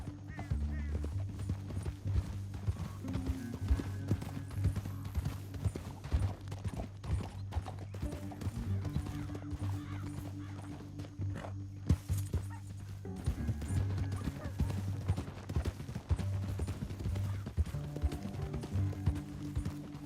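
Horse hooves gallop in a steady clip-clop rhythm across Red Dead Redemption 2's western terrain, continuous and fairly close, with a low droning score underneath and no clear talk.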